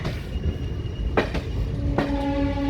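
The Chitrakoot Express pulls out of Katni Junction with loud, close rumbling and rolling on the rails, two sharp wheel clanks, and a rising metallic squeal toward the end.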